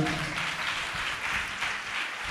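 A church congregation claps hard together during a prayer gathering, a dense, continuous roll of applause at steady volume throughout, slightly distant and without speech.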